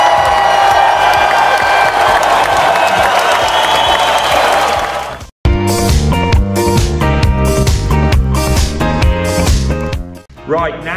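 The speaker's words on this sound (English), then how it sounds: "it's a big Newton round of applause for Year 4's Alice" School assembly audience applauding a Year 4 pupil, a loud burst of clapping and cheering that cuts off abruptly halfway, followed by bright music with voices.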